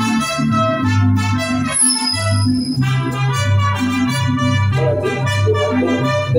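Mariachi band performing a song at a birthday celebration, with steady loud strummed guitars, bass and brassy melody lines throughout, alone without talk.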